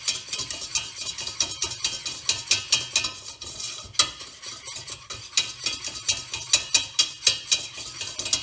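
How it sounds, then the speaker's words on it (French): Roux heating and cooking in a pan, stirred with a utensil in a quick steady rhythm of light scraping clicks over a soft sizzle, close and moderately quiet, no voices. "je vais pouvoir aller faire chauffer mon roux et on va le cuire"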